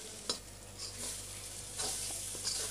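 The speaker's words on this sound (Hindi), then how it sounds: "अब हम इसे अच्छी तरह मिक्स कर लेंगे और इसे लो फ्लेम पे ही पकाएंगे।" A seasoned mixture for poha, with salt and chili, cooks on a low flame in a pan. It gives a gentle sizzle broken by a few brief scrapes and clinks of a stirring spoon, and no voices are heard.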